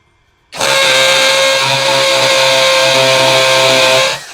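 A DongCheng DCPL165 cordless impact driver runs in hammer mode, a loud, steady high motor whine that starts abruptly, holds for about three and a half seconds, and cuts off, with no talking.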